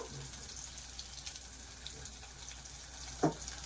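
Cumin and mustard seeds frying in hot oil for a chana dal and cabbage curry, a faint, steady sizzle with a few light clicks and one sharper tap near the end.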